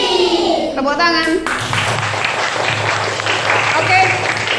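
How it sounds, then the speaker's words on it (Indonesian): A class of students claps in a mixed burst of applause, loud and busy, with voices talking over it as the clapping carries on. "tepuk tangan."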